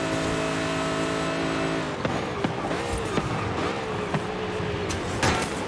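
A 2005 Ford GT races in Forza Horizon 5, its engine holding a steady high drone before dropping into rapid revving and gear changes, loud and close, with faint talk underneath.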